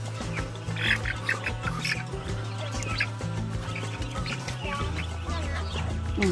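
Many ducklings peeping and chirping in a busy, overlapping chorus, with a steady low hum in the background and faint voices.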